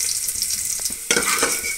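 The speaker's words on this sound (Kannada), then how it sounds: "ಈ ಥರ ಒಗ್ಗರಣೆಗೆ ಎಲ್ಲ ಈರುಳ್ಳಿ ಒಂದು ಸ್ವಲ್ಪ ಬಾಡಿದೆ" Onions fry in hot oil as tempering for a black-eyed peas curry, a close, steady sizzle with a brief scrape or stir partway through.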